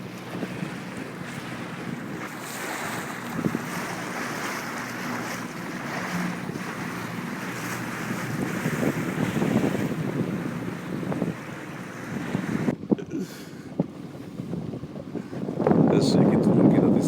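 Low engine drone and water splashing from a boat moving on Lake Tisza, Hungary, with wind buffeting the microphone and people talking over it.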